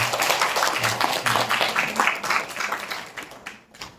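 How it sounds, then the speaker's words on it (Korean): An audience claps warmly after a lecture at a church pastors' forum on valuing life, a close, dense burst of hand claps that tapers off over about four seconds. "다시 한번 우리 뜨겁게 박수로 보냅니다."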